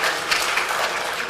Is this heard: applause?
yes